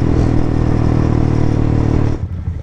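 A new Yamaha R15 motorcycle idles loud and close with a rough, steady engine rumble, then cuts off abruptly near the end, leaving brief quiet clatter.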